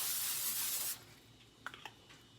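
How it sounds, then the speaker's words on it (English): Olive oil cooking spray sprayed into an air fryer basket for garlic Parmesan Brussels sprouts, one steady hiss lasting just under a second, close and fairly loud, followed by a few soft clicks and handling noises. "And I'm using olive oil spray."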